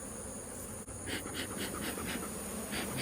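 Honey bees buzz around an opened hive during a summer inspection, a dense close drone with repeated louder swells as individual bees pass near.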